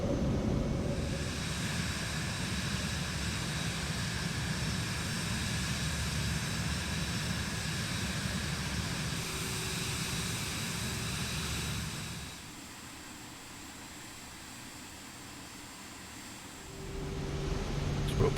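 A steady, broad roar of an aircraft engine during takeoff in a flight simulator game, holding at an even level before dropping away to a quieter hum and then swelling again near the end.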